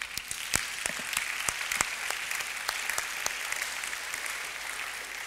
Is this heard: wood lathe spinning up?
no